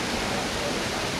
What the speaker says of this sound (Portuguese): Cachoeira do Robertão, melhor que tem Amparo.